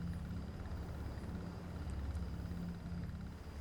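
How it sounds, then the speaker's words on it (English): Generator at a church in the video game Foolish Mortals, a steady low droning hum, faint and unbroken, with no voices. "the repetitive hum of a newly placed generator"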